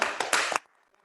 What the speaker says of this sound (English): Clap it up for you guys.